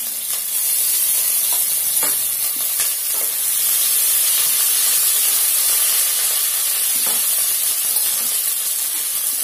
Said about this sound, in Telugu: ఇప్పుడు నూనె వేడెక్కిందండి. దీంట్లోకి మనము 2 పచ్చిమిరపకాయలు కట్ చేసుకుని వేసుకుందాము.